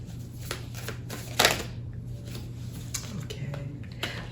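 Tarot cards shuffled by hand in a quiet room, a soft papery riffle with a sharper burst of flicking near the middle and a few light taps, close and alone over a low steady hum.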